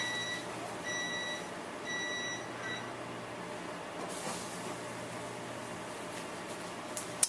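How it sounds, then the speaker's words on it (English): A few short high-pitched electronic beeps in quick bursts near the start from a timer, then a quiet room hum with faint handling noise. "there's my timer"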